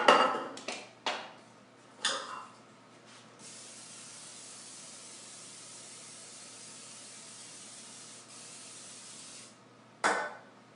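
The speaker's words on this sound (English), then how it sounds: "I'm using a muffin tin. I'm going to spray that." Cooking spray is spritzed into a muffin tin in a kitchen. A few short, sharp hissing bursts come first, then a long steady spray lasts several seconds, and a final burst follows. The sound is close and isolated, with faint clinks of the metal pan.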